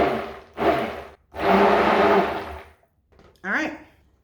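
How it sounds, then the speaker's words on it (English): A stick blender whirs in short pulsed bursts while mixing cold process soap batter, three runs of buzzing motor noise with brief pauses between them, close up. "we're gonna pour this in on the stick blender"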